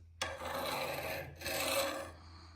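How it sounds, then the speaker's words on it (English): A metal file rasps across an axe head as it is sharpened, two long scraping strokes with a short pause between them, close and clear in a quiet space. "But right now I'm going to sharpen it with this file."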